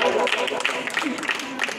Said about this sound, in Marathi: जोरदार टाळ्या मनस्वीसाठी